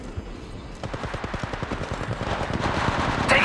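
Rapid machine gun bursts in a shooter video game, a fast regular stream of sharp shots rising in density and loudness, with a brief electronic tone near the end.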